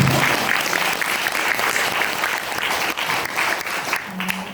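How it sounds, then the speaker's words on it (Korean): An audience at a Korean independent film screening Q&A applauds in a thick, even wash of clapping that holds steady throughout before thinning slightly at the very end. "박수 한번 부탁드릴게요"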